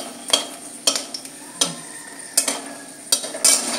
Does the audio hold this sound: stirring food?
yes